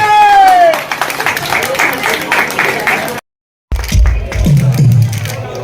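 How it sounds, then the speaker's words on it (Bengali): A seated audience at a club gathering applauds a member, with a steady wash of close clapping that briefly cuts out before resuming, mixed with nearby voices. "সকলে একটু হাততালি দেবে।"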